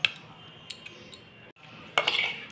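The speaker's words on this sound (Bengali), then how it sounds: "আমি এখন সেই থালে এই তক্তিটা ঢেলে দিচ্ছি।" Peanut brittle is poured from a pan onto an oiled metal plate, giving a soft scraping slide with a few light metallic clinks and a louder scrape near the end.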